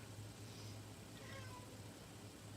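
A cat meowing faintly in a room during a live painting session, a few soft drawn-out meows rising over a steady low background hum.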